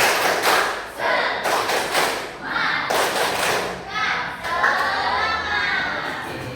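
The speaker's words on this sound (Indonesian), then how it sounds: "Boleh satu kali lagi? Tepuk semangat." A class of junior high pupils repeats a spirited patterned clapping cheer, several bursts of sharp claps and thuds in sequence, mixed with children's voices and a teacher talking.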